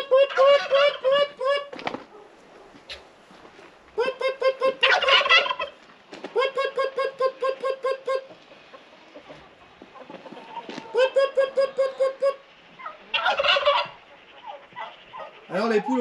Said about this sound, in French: On va appeler les poules maintenant.